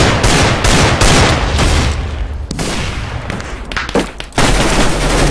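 Loud, dense gunfire in Minecraft Counter Strike: rapid bursts of shots, one after another, with brief gaps between volleys and a sharp crack near the end.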